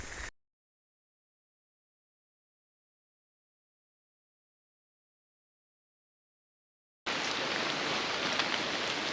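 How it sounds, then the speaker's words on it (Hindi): A short burst of heavy rain hiss on a Himalayan mountain trek, then a long silent gap before a dense, steady downpour returns loud and close. "बारिश फिर से तेज़ हो गई है।"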